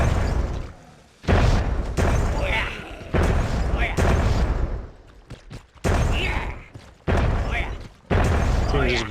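Grenades explode in Myth: The Fallen Lords battle gameplay as a series of deep, booming blasts, about seven bursts in irregular succession, each one loud and decaying briefly before the next.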